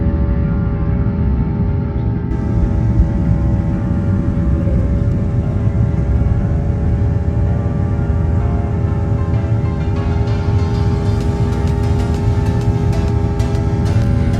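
An airliner roars down the runway at Trivandrum airport for takeoff, a loud continuous engine rumble heard from inside the cabin, building steadily with rising whine and no talking.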